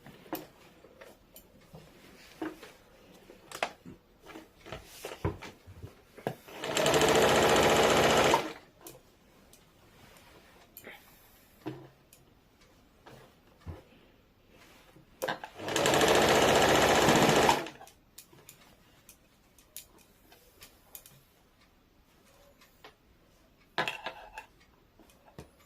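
An electric sewing machine stitches fabric on a plazo waistband hem in two loud, steady bursts of rapid whirring, a couple of seconds each, separated by quieter handling clicks and taps of cloth and tools.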